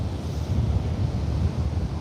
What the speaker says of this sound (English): the waves are pumping this pier